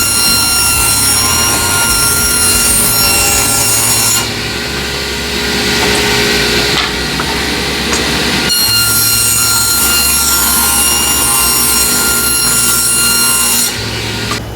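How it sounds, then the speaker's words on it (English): A power saw rips two wooden pieces into 1 1/4-inch strips with a loud, harsh, continuous cutting roar. Three long cuts are heard, separated by brief dips where the blade's whine changes, and there is no talking. "now we're going to cut these 2 pieces into 1 1/4 strips."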